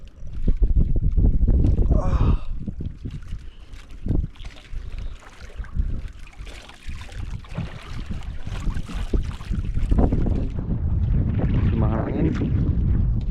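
Strong wind buffets a small boat out at sea, a heavy rumbling roar of gusts across the microphone that swells and eases, with water sloshing and brief voices talking underneath.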